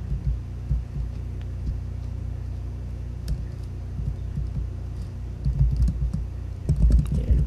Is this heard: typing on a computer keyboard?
yes